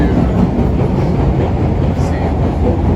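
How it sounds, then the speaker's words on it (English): Boston subway car in motion, heard from inside as a loud, continuous rumble of wheels on track with dense low roar and faint clatter, steady throughout with no pauses. "first ride on the subway in Boston"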